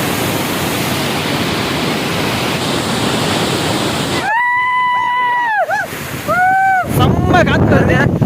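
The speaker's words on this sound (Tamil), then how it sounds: "காட்டாறு மாதிரி ஒரு வெள்ளம் மாதிரி போயிட்டு இருக்கு." A river in flood at Munnar rushes like a wild stream, giving a loud, steady broadband roar buffeted by wind, with voices speaking over the middle and end.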